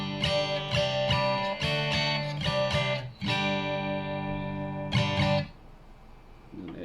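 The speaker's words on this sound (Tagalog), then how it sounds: "So ito yung tunog ng gitara." Single-coil electric guitar played through a Boss GT-6 multi-effects unit, strummed chords ringing in bursts with short pauses, a final chord fading out near the end, close and clear with no talking.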